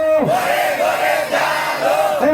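Crowd at an Islamic sermon gathering shouting takbir, Allahu Akbar, in loud unison, a dense chorus of raised voices that swells and falls in a couple of waves.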